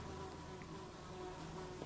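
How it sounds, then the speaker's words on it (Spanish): A swarm of flies buzzes in a video game, a dense, continuous droning hum that stays steady and close throughout, with no voices. "se acaba de llenar todo de moscas de pronto"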